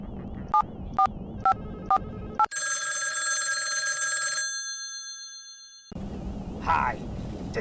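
A telephone in the PC Gamer Underground video game: five short dial tones in a steady rhythm, then a loud synthetic electronic ring tone that holds for about two seconds, a pause, and a noisier burst at the end.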